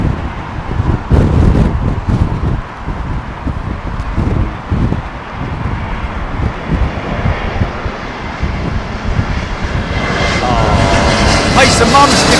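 An airplane flies over Heathrow Airport on a stormy day, its engine roar rising and falling beneath heavy buffeting wind noise on the microphone.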